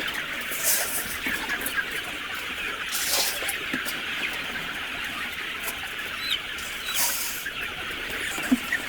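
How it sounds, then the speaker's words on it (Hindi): Dense, continuous clucking from a large flock of white layer hens crowding in to feed at a big poultry farm, with many overlapping calls close by and no talk. "ये देखें सारे के सारे चूजे, ये इनको जो है फीड डल रही है।"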